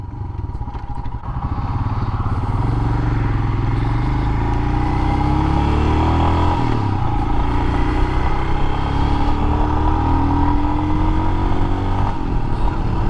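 Royal Enfield Himalayan 411 motorcycle ridden out on the road, its single-cylinder engine droning loud and steady at close range, with rising tones as it accelerates through the gears and no talk over it.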